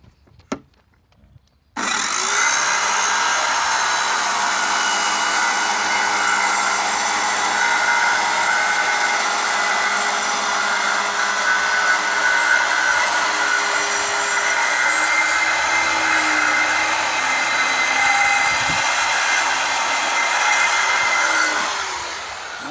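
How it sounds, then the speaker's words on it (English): A power saw blade trims the edge of a hatch, running as one loud, continuous buzzing cut for about twenty seconds after a brief quiet start, then tailing off at the end. "I'm just going to use the saw blade to nip up there and take a little bit off"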